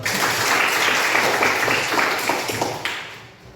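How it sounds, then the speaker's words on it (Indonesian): A class of students claps together in a school lesson, a steady wash of hand clapping that holds for a few seconds and then tapers off. "Kita tepuk tangan dulu."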